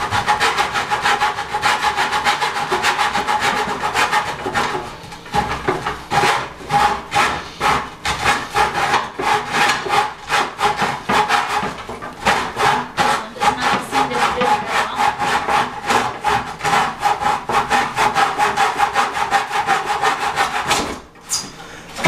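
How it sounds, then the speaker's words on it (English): A manual hand saw cuts through wood indoors, its steady back-and-forth rasping strokes loud and close, running continuously with a brief pause near the end. "one of the other advantages of a manual saw is it doesn't create as much sawdust as a power saw would"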